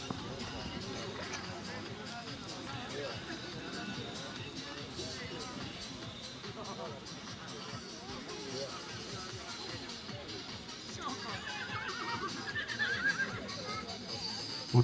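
A horse whinnies over a steady crowd murmur at a village festival in Csetény, Hungary, with hoofbeats and arena commotion underneath; the neigh rises briefly near the end.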